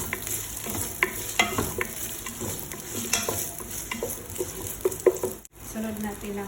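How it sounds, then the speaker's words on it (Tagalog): Onion sautéing in a pan gives a continuous close sizzle with frequent scraping and clacking stir strokes; a brief drop near the end. "Igisa na natin ang ating sibuyas."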